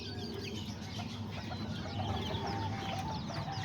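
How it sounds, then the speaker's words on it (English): Small bantam chickens cluck softly and repeatedly, with short chirpy calls overlapping in an outdoor yard, fairly faint and steady with no talking. "my little chickens right here"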